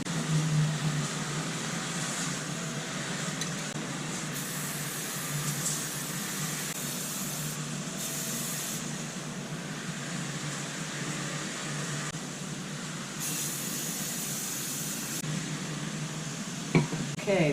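Aerosol spray paint hissing in bursts as flat black is applied to removed plastic body panels from a 2020 Suzuki DR650 motorcycle, with a steady fan-like background and short pauses between passes.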